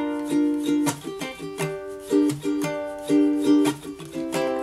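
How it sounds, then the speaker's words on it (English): Ukulele strumming in a steady pattern with percussive muted chucks between ringing chords, repeating rhythmically, close and clear with no talking. "So the first way I would play it involves chucking, and the strum pattern just sounds like this."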